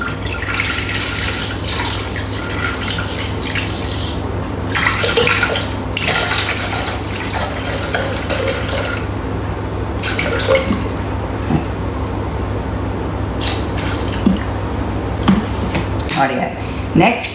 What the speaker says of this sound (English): 500 grams of water.